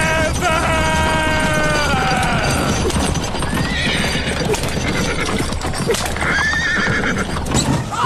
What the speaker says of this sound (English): The horses are trampling him!